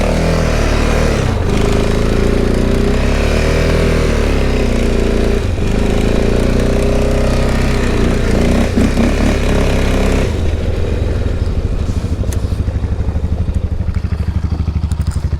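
Steady, loud drone of a Honda motorcycle engine running on a snowy driveway, held at an even pitch with slight shifts in tone and no voices.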